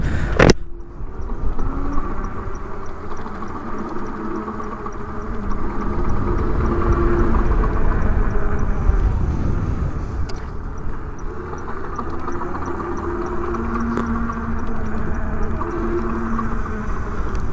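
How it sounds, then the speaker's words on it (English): A steady electric bike hub motor hum with a low, even whir runs throughout, swelling slightly midway, with a sharp click near the start. "I want you to listen to the motor"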